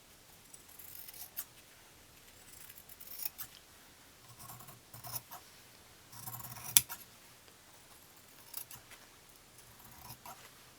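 Scissors snip through fabric being trimmed to size for a scrappy patchwork quilt, a series of soft, crisp cuts spaced across the clip with quiet pauses between them and no talking.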